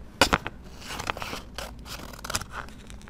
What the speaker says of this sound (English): I think I can take some of this and cut this off because it's extra